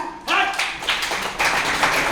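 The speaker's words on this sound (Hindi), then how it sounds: "पवन एंड बॉब के लिए अरे ताली बजा" An audience claps for performers at an interview event with Indian Idol winner Pawandeep Rajan. The clapping starts abruptly after a brief quiet moment, then continues as moderate, irregular applause with a few swells.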